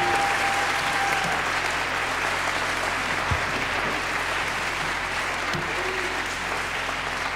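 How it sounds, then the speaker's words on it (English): Steady, dense applause from a concert audience fills the room for a gospel choir's fall concert, a continuous wash of many hands clapping with faint voices mixed in underneath. "Give them a hand clap,"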